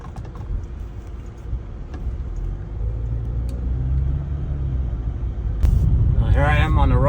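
A 2016 Toyota Camry drives over a rough road, its low rumble rising and falling with road noise inside the cabin while someone talks over it.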